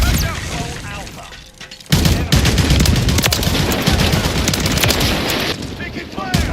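Sustained video-game firefight: dense, continuous automatic gunfire with sharp cracks and bursts, loud and close, with voices shouting over it.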